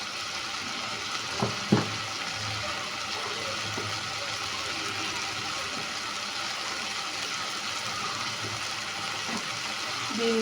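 Spice paste sizzles and is stirred in a pan while cooking for Bangladeshi chingri macher malaikari, a steady hiss of frying with a few scraping knocks early on.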